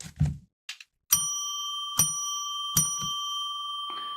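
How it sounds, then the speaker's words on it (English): A bell rings three times at even intervals inside a live psychic call-in radio broadcast, each strike clear and loud and leaving a long, bright, ringing sustain, with a few soft thumps and clicks in between. "So we're going to now ring that bell."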